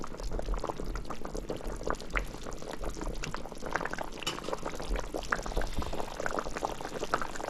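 A pot of fish stew with tomato and seasoned fried snapper boils steadily, giving a continuous bubbling, gurgling roar with liquid pops throughout and no voices.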